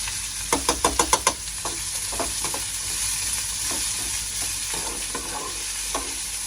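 Snake gourd and onion sautéing in hot oil in a pan, with a quick burst of scraping stirs near the start, then a steady sizzle broken by occasional spoon scrapes.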